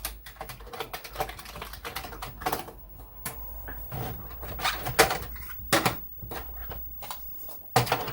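Keys clack on a Commodore 64 keyboard under repair, quick irregular bursts of typing and tapping close by with short pauses between, with no talking.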